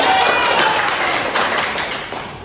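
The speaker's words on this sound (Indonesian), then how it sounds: "Ya, kita tepuk tangan." A classroom of pupils clapping their hands together, a dense, loud burst of applause that fades toward the end.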